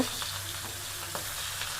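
Fish sizzling steadily in hot oil in a frying pan, a continuous close crackle with a few brief louder spits and stirring scrapes, no voices.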